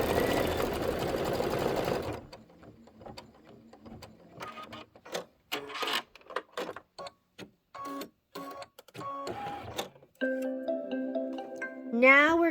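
A sewing machine stitches a quilting stitch, running in a steady loud whir at first, then in short repeated start-stop bursts, ending with a few electronic beeps from the machine.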